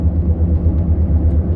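Steady, loud low rumble inside an ordinary car while driving, droning on evenly with no voices.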